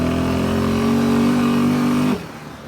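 Honda Rincon 680 ATV engine held at a steady loud drone close by, then cutting off sharply near the end, leaving quieter ambient noise.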